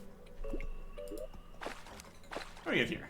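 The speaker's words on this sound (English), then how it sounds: "Oh, here it's filling with water." Soft dripping, squishing and liquid splashes as water pours into a freshly dug pit in Terraria, a few separate watery bursts over a faint steady background, the last one loudest.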